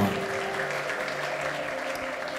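A church congregation claps together at a prophetic gathering, a steady wash of applause that stays even and dense throughout, with faint voices mixed underneath.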